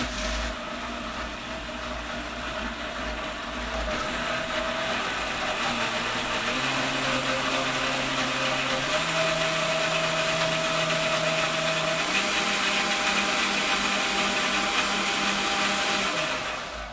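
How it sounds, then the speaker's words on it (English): A blender roars steadily as it purees a chunky green sauce. The loud motor whine shifts pitch several times as the blades catch and spin through the ingredients, and no one talks over it. "Hold on while I blend."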